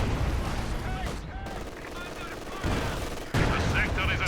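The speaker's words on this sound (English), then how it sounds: "Barrage into the building, MG returning fire." Machine gun fire and explosions from the Company of Heroes 2 video game form a dense, continuous battle din of rapid bursts and booms, with a voice talking over it.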